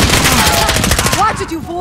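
Call of Duty: Modern Warfare match with loud, continuous automatic gunfire up close, rapid overlapping shots that thin out toward the end, with a little voice chatter mixed in.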